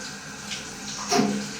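Shower water runs as a soft, steady hiss close by, with a brief splashy swell near the end and no talking.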